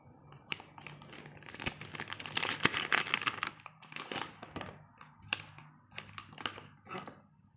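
A plastic Ziploc cigar humidor bag is handled close up with quiet, irregular crinkling and crackling, rising to a denser rustle in the middle before thinning to scattered crackles.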